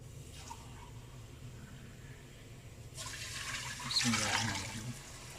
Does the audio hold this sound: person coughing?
no